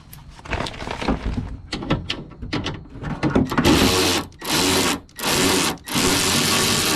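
A power tool, likely an impact driver or drill, spins a 10mm bolt out of a 2006 Toyota Corolla door, with several short mechanical bursts followed by three longer buzzing whirs, close and fairly loud, with no talking.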